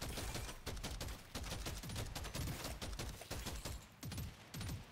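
Rapid automatic gunfire from Deep Rock Galactic: Survivor, loud and dense throughout, with a steady stream of shots broken by brief pauses and heavy thumping impacts underneath.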